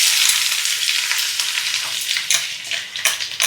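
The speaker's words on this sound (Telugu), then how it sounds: "ఇప్పుడు ఉల్లిపాయలు వేద్దామండి." Onions frying in hot oil for a Korameenu fish curry, a dense, continuous crackling sizzle dotted with small pops and stirring scrapes, close and steady with no speech.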